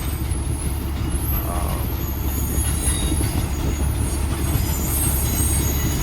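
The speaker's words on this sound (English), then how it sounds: "Just thought you might appreciate the train with the sugar cane" A train hauling sugar cane rolls steadily past, heavy low-end rumble with faint high metallic squeals from the wheels, continuous throughout.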